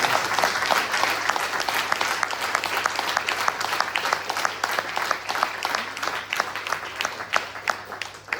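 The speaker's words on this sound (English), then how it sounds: "I request you all to give her a big round of applause for the great." Audience applause for a singer at a devotional music event, dense and steady clapping from a crowd filling the room, sustained throughout at an even level.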